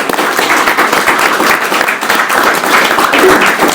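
An evening audience gives a loud, dense burst of applause for a speaker being introduced, a close, continuous patter of many hands clapping with a few voices mixed in.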